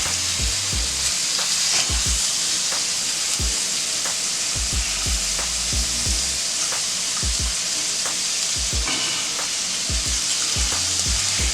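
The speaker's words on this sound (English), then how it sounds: "So let's let the bacon cook for a minute" Bacon frying in a pan on a Steelmadeusa griddle gives a loud, steady sizzle and crackle, with occasional scrapes and taps from a utensil or press, and no voices.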